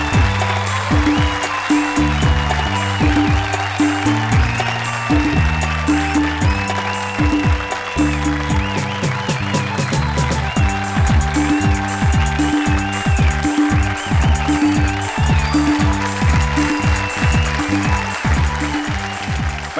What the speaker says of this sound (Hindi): जोरदार तालियां पंडित विश्वेश्वर शर्मा के लिए